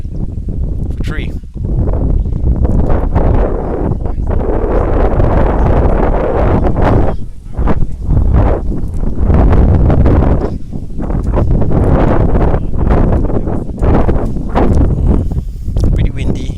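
Strong gusty wind buffets the microphone at an outdoor cricket match on an overcast day, roaring in waves with brief lulls, and a commentator's voice runs beneath it.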